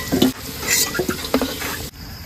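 Bay leaves and dried red chillies drop into hot oil in a pan left from frying potatoes for a pulao dish, giving a steady close sizzle with a few soft utensil knocks and stirring scrapes before it cuts off.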